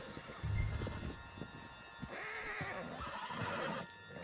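A horse in a video game whinnies loudly and close, then snorts amid shuffling hooves and a low rumbling background.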